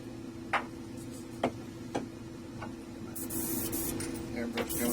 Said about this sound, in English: Airbrush going here.